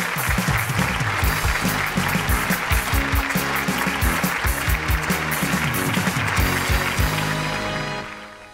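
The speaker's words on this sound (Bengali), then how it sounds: "একটা জোরে হাততালি হোক" A studio audience on a Bangladeshi comedy stage show claps loudly and continuously, a dense close wash of hand claps that holds steady and then tails off quickly at the end.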